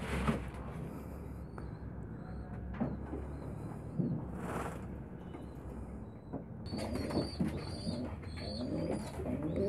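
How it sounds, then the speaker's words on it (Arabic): Pigeons coo repeatedly while bathing and drinking in a water dish after a loft has been dusted with lime, steady soft cooing over a constant low background hum, with a brighter rustle of activity toward the end. "طبعا الحمام بدأ ينزل يستحمى وبيشرب برضه من المية"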